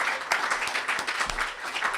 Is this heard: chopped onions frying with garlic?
no